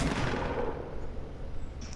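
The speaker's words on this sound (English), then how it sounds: "He's still shooting at me" Gunfire aimed at the player in a video game, a burst of loud shots in the first moment trailing off into a rough, fading rumble.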